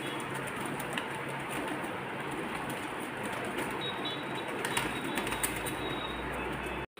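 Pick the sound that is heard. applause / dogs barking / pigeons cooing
pigeons cooing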